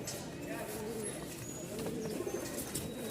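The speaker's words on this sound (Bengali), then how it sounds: "দুইটাই জোস উড়ানোর জন্য ফাটাফাটি কবুতর" Giribaz pigeons, including full black birds, give soft repeated coos close by, with faint voices and background chatter in the mix.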